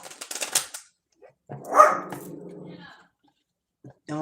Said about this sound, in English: And my dog started barking.